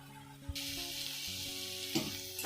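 Spinach and coriander with a little added water simmer in a pan for a hara bhara kabab mixture, giving a steady close sizzle with a few soft stirring knocks throughout.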